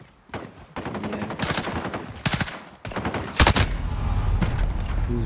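Gunfire in Call of Duty Modern Warfare, Gun Game and Hardpoint modes: rapid bursts of automatic fire and single shots, close and loud, with a heavy blast near the middle and sustained rumble afterward.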